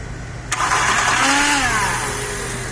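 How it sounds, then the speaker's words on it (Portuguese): A Fiat Strada Dual Logic 1.8 engine cranks on its starter motor with a sudden loud onset, then runs with a steady, droning mechanical noise close by. "O barulho que tá no arranque."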